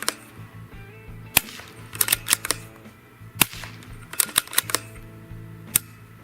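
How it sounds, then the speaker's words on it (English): A series of sharp, quiet suppressed rifle shots at an outdoor range, each a crisp metallic snap with a ringing firing-pin ping louder than the shot, spaced irregularly over a faint background hum. "you can hear the ting of that firing pin way louder than the sound of the gunshot"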